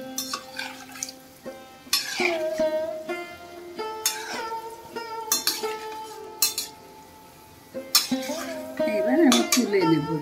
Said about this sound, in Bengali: একটু নাড়িয়ে দিলাম, দুই দিকটাই ভালো করে হবে নেড়ে চেড়ে